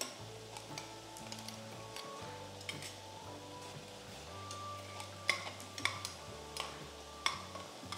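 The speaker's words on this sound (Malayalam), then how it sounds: "പച്ചമണം മാറുന്ന വരെ വഴറ്റുക." Onions with crushed ginger and garlic sauté in a pan, giving a soft, steady sizzle with occasional light stirring clicks and scrapes. The sound stays faint and continuous throughout, with no speech.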